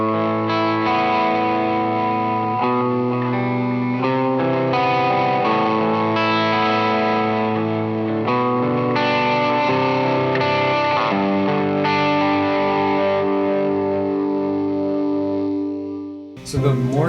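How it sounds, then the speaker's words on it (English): An electric guitar runs through two amps at once, one of them a Morgan AC20, with delay on only one side, playing sustained, chorus-washed chords that ring continuously and loud, with no talking over them. "I'm running both of these amps together, and I'm only running delay through one of the amps"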